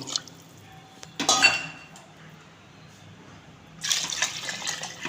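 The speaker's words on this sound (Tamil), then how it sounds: "இப்போ இதுக்கு 5 கப்பு தண்ணி ஊற்றிக்கிடுவோம்." Water splashes and pours into a metal pot of rice and fenugreek in two bursts, with a brief clink of cookware between quiet pauses.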